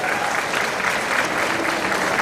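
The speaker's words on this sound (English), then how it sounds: "Can we give him a big round of applause?" A PLAY Expo crowd applauds a guest speaker with steady, dense clapping that fills the whole moment at even strength, with no voices over it.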